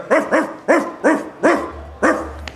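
A few dogs kept in a garage bark loudly and close by, about six sharp barks in a steady, evenly spaced rhythm with no voices.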